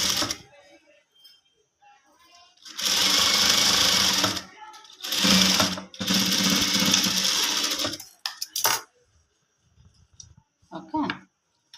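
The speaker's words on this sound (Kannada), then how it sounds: "ಮತ್ತು ಇವಾಗ ಸ್ಟಿಚ್ ಹಾಕ್ಕೊಳ್ಳಿ" A sewing machine stitches piping onto a garment in two bursts of steady rapid whirring, with a brief pause between and faint clicks afterward; near and loud, with quiet talk around the stitching.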